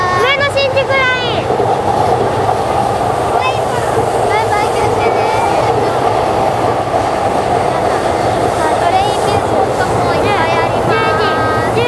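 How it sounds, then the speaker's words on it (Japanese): A train on the Ueno-Tokyo Line rumbles past nearby in Oji, Kita ward, Tokyo, with a continuous clattering roar, while people talk over it. "見て電車来た"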